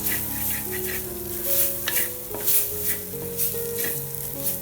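Masala paste of coriander, chilli and turmeric powders sizzles and fries in a pan for Kerala stingray curry, stirred with a few scraping strokes, steady and close with no talk.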